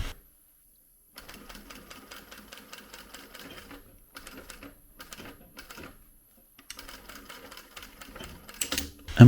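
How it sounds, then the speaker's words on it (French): A sewing machine stitches the curved seam of a trouser fly in short bursts separated by pauses, its rapid needle rhythm close and steady during each run. "Puis je replace le soupon et je pique l'ensemble avec la couture arrondie."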